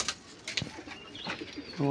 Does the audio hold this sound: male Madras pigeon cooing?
yes